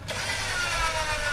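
A vehicle winch is reset during hill recovery work in the Coxs River country near Rydal and Lidsdale, giving a steady mechanical ratcheting whir at close range, continuous and fairly loud, with no talk over it.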